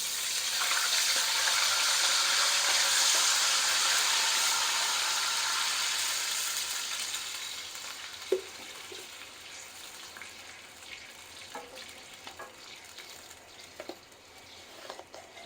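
About 1.5 litres of water poured into a pot of frying spices for dhaba-style daal chawal; a loud rushing splash and sizzle that slowly fades to a quieter bubbling, with scattered clinks and stirring knocks.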